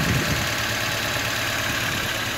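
An old car engine that has never been repaired idles close by, a steady low rumble with a faint knocking texture.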